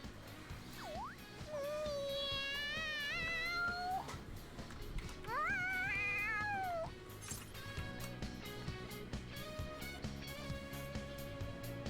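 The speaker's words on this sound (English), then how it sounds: "The cat's acting awfully excited." A cat in the Persona 5 Royal video game meows excitedly in two long, rising and wavering calls over a steady game music background.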